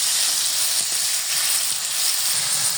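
Onion and taki fish sizzle loudly in a pan of hot oil, a dense, steady hiss close up with faint stirring knocks underneath.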